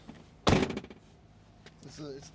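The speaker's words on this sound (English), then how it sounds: "Did you notice when I close the door how that thing sounds?" The door of a 2020 Tesla Model Y shuts with a single sharp thunk, followed by a faint rattle from the door or window and a brief muffled voice.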